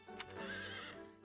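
A horse in the video game Fire Emblem Warriors: Three Hopes gives a long, quavering neigh with faint hoofbeats, fairly quiet and heard alone.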